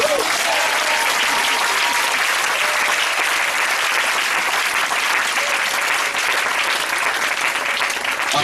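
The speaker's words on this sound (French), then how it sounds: "est-ce que tu peux acclamer aussi?" A church congregation applauds and cheers steadily throughout, a dense, loud wash of clapping with crowd voices mixed in, sustained without a break.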